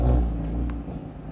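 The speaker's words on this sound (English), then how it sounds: "Listen to that turbo 5-pot just rumbling away." An Audi TT RS's turbocharged five-cylinder engine rumbles deeply and loudly close by as the car rolls out, holding a throaty, uneven burble for just over a second.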